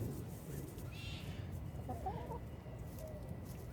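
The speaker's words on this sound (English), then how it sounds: "Bad chicken." A backyard chicken clucks in short bursts, a few faint, close calls over a low background rumble, with no talk.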